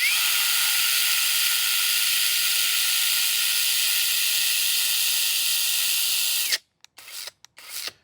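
A small power tool whines at high speed for several seconds with a steady buzzing hiss, then cuts off abruptly, followed by a few short bursts.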